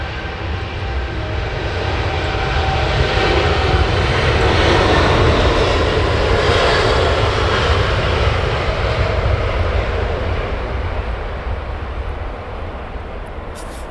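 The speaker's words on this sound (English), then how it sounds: "the Air Canada old colours taxiing out as well." Jet engines of an Air Canada airliner taxiing at Heathrow Airport give a steady, loud, broadband roar and whine that swells slightly and holds throughout, with no voices over it.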